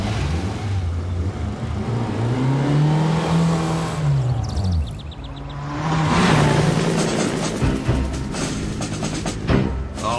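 A three-wheeled Reliant Robin drives and revs on a cricket ground, its small engine whining up and down in pitch, easing off briefly midway before accelerating hard again, loud and close throughout.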